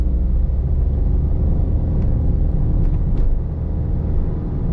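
A small Suzuki Alto hybrid car engine hums steadily and rumbles as the vehicle pulls away from a stop, with a few faint high clicks over the constant drone.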